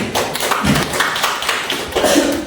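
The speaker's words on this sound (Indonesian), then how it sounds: "tepuk tangan dulu buat Habib" A group of people applauding, with uneven, scattered claps and taps rising and falling over a couple of seconds, moderately loud and close, without clear speech over it.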